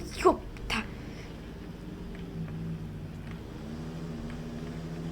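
A car drives off in a desert driving game, its engine rumbling low and fairly quiet with a slowly rising pitch, after a brief voice at the start.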